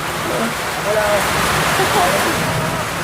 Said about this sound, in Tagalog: Talagang niligo kami ng bongga ng magandang malakas na ulan.